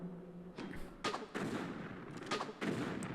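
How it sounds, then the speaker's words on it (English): Explosive crossbow bolts in Tomb Raider The Last Revelation going off as several quiet, muffled thumping blasts spaced about half a second apart. "I'm gonna get my explosive crossbow ammo"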